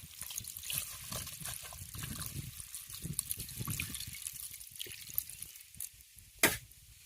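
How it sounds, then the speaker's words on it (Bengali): Water poured onto spiced fish in a clay pot, a soft liquid trickle and splashing mixed with faint stirring, fairly quiet and close, ending with a brief sharp knock. "এবার আমি পরিমাণ মতন জল দিয়ে দেবো"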